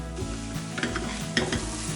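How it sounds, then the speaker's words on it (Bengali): Masala fries in a pan with a constant close sizzle, broken by a few stirring scrapes and light clinks of a spoon against the metal. "এটাকে আর একটু ভাজি"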